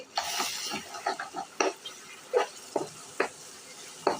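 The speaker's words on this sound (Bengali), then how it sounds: "তো এইভাবে আমি ডিম আর মাংসটা পেঁয়াজ রসুনের সঙ্গে ভেজে নিব" Egg and meat fry with onion and garlic for semai noodles, a series of spatula scrapes and stirring strokes in an irregular rhythm over a soft sizzle, close and moderately loud.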